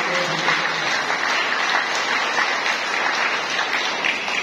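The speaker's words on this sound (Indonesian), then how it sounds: "Mari kita tepuk tangan yang meriah untuk" A hall full of people at a university graduation ceremony breaks into sustained, lively applause for the new graduates. The clapping is dense and even, with no voices over it.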